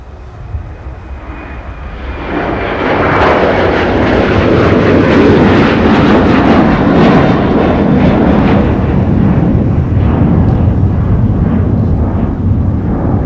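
A Delta airliner takes off from MSP airport on a winter day, its jet engines swelling from a low rumble into a loud, sustained roar that holds steady for several seconds.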